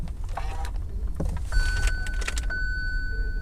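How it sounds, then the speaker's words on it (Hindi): A key jangles in the ignition of a Hyundai i20 Asta(O) diesel car as it is switched on, followed by a few clear electronic chime tones from the dashboard over a low cabin hum, close and moderately loud. "तो चलिए अब गाड़ी के इग्निशन को ऑन कर लेते हैं।"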